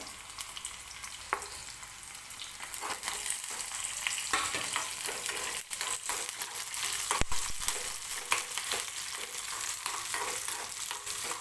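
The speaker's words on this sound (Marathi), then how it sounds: "व्यवस्थित कांदा तेलामध्ये भाजून घ्यायचा आहे" Onion, green chilli, garlic and ginger fry in hot oil with a dense, continuous sizzle and crackle, joined by scattered stirring knocks and scrapes, close up and with no voices.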